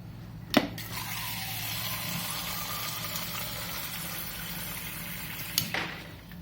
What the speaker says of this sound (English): Let's go ahead and test it once more.